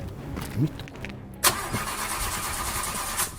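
A car engine cranks and catches with a sudden onset, then settles into a steady idle hum at moderate distance, with a brief vocal sound just before and no clear talk.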